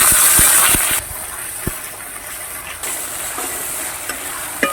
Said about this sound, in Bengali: এই তেজপাতা দুটো ফোড়ন দিয়ে দিচ্ছি এই জিরাটা ফোড়ন দিয়ে দিচ্ছি আদাটা ফোড়ন দিয়ে দিচ্ছি